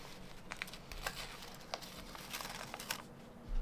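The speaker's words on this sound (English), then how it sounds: "And then we can pull the paper out." Paper is pulled out of appliqué stitching on fabric, a run of soft crinkling and tearing ticks, close and quiet, with a louder rustle at the end.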